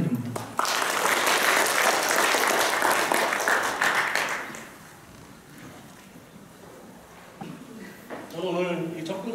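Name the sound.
audience applause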